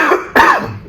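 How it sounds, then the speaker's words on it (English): A single sharp, forceful cough from a woman sitting at a mukbang meal, close to the mic, with a brief voiced lead-in before the burst and a short tail afterward. "Sorry, I cough like a man."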